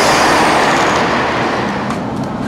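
A train pulls away from London Marylebone, producing a loud, steady broadband rumble and roar from close by with no clear breaks.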